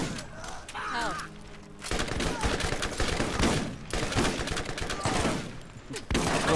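Rapid gunfire from weapons in the video game Borderlands crackles in dense bursts across most of the stretch, loud and busy, with a brief lull near the start and game effects mixed in.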